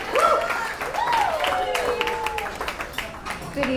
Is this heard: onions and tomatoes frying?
no